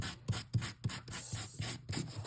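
Sandpaper rubs across cardstock in quick, rhythmic back-and-forth strokes: several gritty, scratchy passes close up with short pauses between them.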